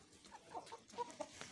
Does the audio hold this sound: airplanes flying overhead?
no